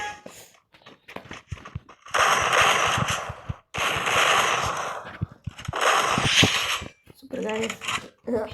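Gunfire from a Desert Eagle-style handgun in the mobile shooting game Free Fire, with loud dense bursts of shots in several blocks, separated by brief pauses, alongside sparse game sounds.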